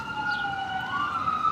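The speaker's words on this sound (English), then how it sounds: "Can you hear the sirens? That tells you're in the city." Emergency vehicle sirens wailing on an Upper West Side street in New York City, a rising and falling tone that sweeps up clearly above steady traffic noise, fairly loud and a short distance away.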